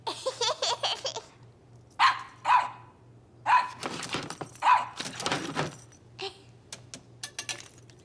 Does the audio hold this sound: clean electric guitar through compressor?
no